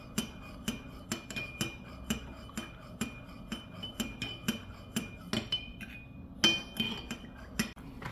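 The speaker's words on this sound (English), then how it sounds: "So I'm going to mix everything together with the milk." Graduation cake ingredients are mixed together with milk, giving a regular series of light clinks and taps of a utensil striking a bowl, close and fairly quiet, with no speech.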